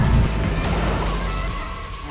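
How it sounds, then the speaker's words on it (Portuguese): Loud, deep roar of an Audi R8 V10 engine up close, a heavy low rumble that swells at the start and holds steady for about two seconds. "O ronco desse V10, meu amigo."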